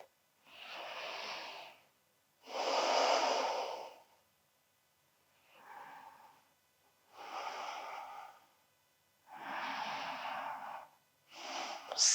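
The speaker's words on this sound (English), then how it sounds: "Deep and expansive breath." Slow, deep breaths during a yoga session, five or six long inhale and exhale cycles of a few seconds each, soft and close with near silence between them.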